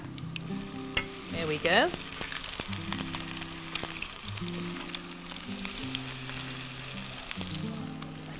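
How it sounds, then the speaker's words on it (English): Ricotta pesto fritters with courgette and garlic shallow frying in olive oil, a steady close sizzle and crackle under light background music, with a brief spoken remark. "I'm just going to shallow fry them in that really lovely olive oil."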